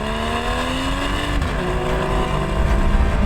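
A Porsche Boxster 981 with a naturally aspirated engine, no turbos, revving hard close by, its pitch climbing smoothly as it accelerates in a loud, rich, continuous engine note.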